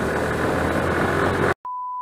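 Suzuki Gixxer 155cc motorcycle engine revving hard during a test ride, a loud, dense, steady roar for about a second and a half that cuts off abruptly into a short electronic beep tone.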